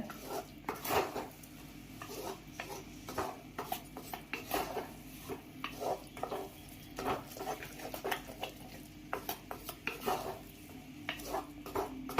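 Ground coconut masala sautéed in a pan for brinjal curry, with a utensil scraping and stirring in repeated strokes over a low, steady frying hiss throughout, fairly quiet and close.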